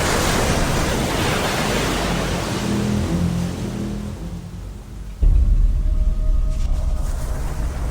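Ocean waves wash and roll steadily as broadband surf noise, with a louder, closer surge arriving partway through and continuing to the end; no voices are heard.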